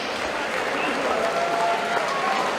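Steady crowd applause for two boxers in the ring at a professional boxing show in Grimsby, a dense even wash of clapping that fills the arena throughout.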